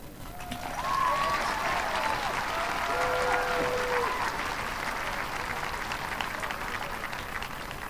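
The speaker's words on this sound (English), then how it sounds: "Now let's have another round of applause for each of the speakers and the special music tonight." Sustained audience applause at the Milton High School 2019 graduation ceremony, a steady wash of many hands clapping, with a few faint calls and whistles over it.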